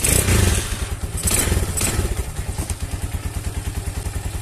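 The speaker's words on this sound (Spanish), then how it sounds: "hay que encender la moto para probar que entre la gasolina ahí en el filtro" A Rocketman 250 motorcycle engine starts and runs after a fuel filter change, a loud close rhythmic idle putter that settles into an even, steady pulse.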